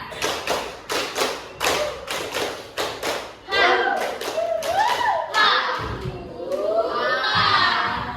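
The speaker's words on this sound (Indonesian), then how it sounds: "Tepuk 1, 2, 3." Indonesian seventh-grade classroom students clap together in a rhythmic counted pattern, sharp group claps in quick bursts, followed by a loud burst of the crowd shouting and cheering.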